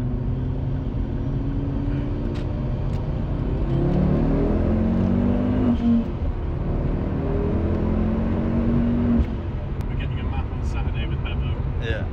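Ford Focus ST MK2 with turbo-back Airtec downpipe pulling hard in second gear: a loud in-car engine drone climbing steadily in pitch, easing, then rising again, with a sharp turbo flutter near the end and a driver talking throughout.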